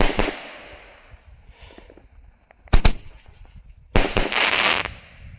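A fading crackle of Roman candle fireworks, then two sharp bursts with sizzling crackling, the second longer and fizzing for about a second.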